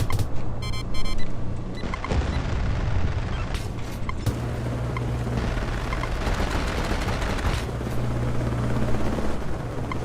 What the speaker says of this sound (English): They put in a new transport helicopter